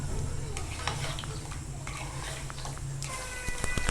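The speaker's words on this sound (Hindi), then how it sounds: "इसको फुल आग तेज़ करके हम अच्छी तरह से भूनना शुरू करते हैं।" Mutton pieces with yogurt and ground dried coriander frying over high heat in a pot, a steady close sizzle with scattered stirring scrapes and spoon clinks, growing slightly busier near the end.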